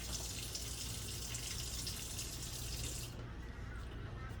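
A sink tap runs steadily while hands are washed beneath it during cooking, a loud, continuous rushing hiss of water that eases slightly near the end.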